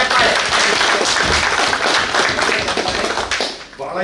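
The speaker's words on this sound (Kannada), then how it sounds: "ಹಾಗಾಗಿ ಒಂದು ದೊಡ್ಡ ಚಪ್ಪಾಳೆ" Dense, loud audience applause fills a hall at a visit by actor Ramesh Aravind to a rural industries organisation, continuous clapping that thins slightly toward the end.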